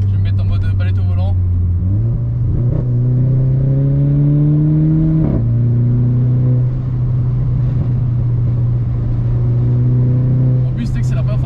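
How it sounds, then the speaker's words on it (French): A car launches hard using launch control, the engine held at a steady drone and then climbing sharply in pitch through a gear change before settling, loud and close, with excited voices talking over it. "c'est la première fois que je fais un launch control là"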